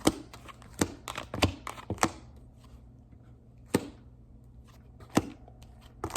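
Tarot cards being shuffled and allowed to slide out of the hand, giving a scattered series of soft, sharp slaps and taps with quiet gaps between them. No one speaks.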